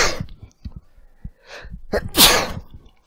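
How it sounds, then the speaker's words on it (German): A person sneezes loudly once after a few short breaths and sniffs, the burst sharp and close, followed by a brief exhale. "Jetzt muss ich gleich niesen."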